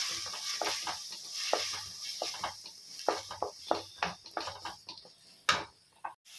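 Green chilli sauce, soy sauce and vinegar being mixed in a pan for soya chunk manchurian: rhythmic spatula taps and scrapes over a faint sizzle, close by.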